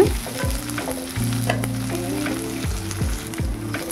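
Onions and sliced green chillies sauté for rava upma in a pan, sizzling steadily and close, with repeated scraping strokes of a stirring spoon cutting through the hiss.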